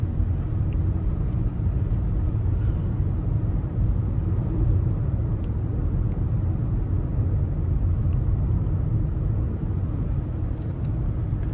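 A 2025 Nissan Altima S with an Xtronic CVT and 16-inch steel wheels drives along, heard from inside the cabin as a steady, loud low rumble of engine and road noise with no talking.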